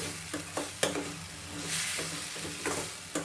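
Rasam powder sizzles in a hot pan while being stirred for a tomato gojju, with a steady frying hiss broken by clicking scrapes of the spoon, close up and with no voices.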